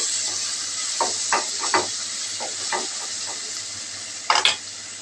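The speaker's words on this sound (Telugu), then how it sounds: "కొద్దిగా బిర్యానీ మసాలా వేసి కలుపుకోవాలి" Everest Shahi biryani masala stirred into a pot for veg biryani, a constant soft sizzle with scattered scraping strokes of a spoon and a louder clatter near the end.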